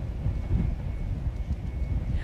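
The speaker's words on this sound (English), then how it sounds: "it's definitely very fast gusts right now" Strong hurricane wind gusts near the Intracoastal Waterway, roaring and buffeting the microphone as a steady, loud, low rumble with no voices.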